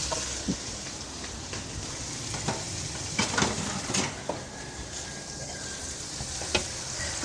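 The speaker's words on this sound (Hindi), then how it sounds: "ये 1 मिनट तक इसे हम फ्राई करेंगे जब तक कि ये अपना खुशबू ना अच्छी तरह से छोड़ दें" Whole cardamom, cloves and cinnamon fry in oil at the start of an aloo gosht, a continuous loud sizzle broken by quick pops and spoon clinks against the pot.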